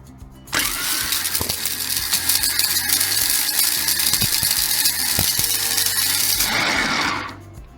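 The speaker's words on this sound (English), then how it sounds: "Grinding operation going on for microchips and some main cards parts" A machine grinding microchips and mainboard parts starts abruptly and runs as a loud, harsh, continuous mechanical grind with ratcheting rattles, then winds down near the end; no talk.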